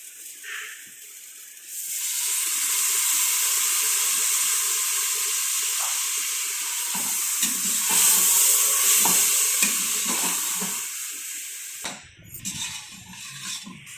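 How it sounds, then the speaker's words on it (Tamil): Rice stirred and fried in a pan with onions and ghee gives a loud, even sizzle. Spatula scrapes and clinks break through near the end. "ரைஸ் இந்த மாதிரி லைட்டாக நல்லா கிளறி விட்டதுக்கப்புறம்"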